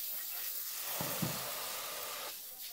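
A little water poured into a hot, dry saucepan where a collagen-rich preparation has begun sticking to the bottom gives a faint, steady hiss and sizzle, with a couple of soft knocks partway through.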